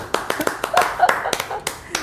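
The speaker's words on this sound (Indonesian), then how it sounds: "Tepuk tangan dulu." A small community group claps hands briefly, giving a short round of uneven, close claps with a voice speaking over them.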